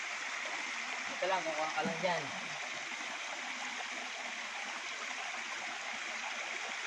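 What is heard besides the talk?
running stream water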